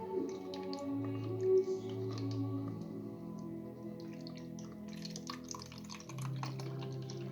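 Water is scooped from a garden pond with a small container and poured back out for a cascade filter, giving soft splashes, drips and trickles against a steady low hum, with no speech.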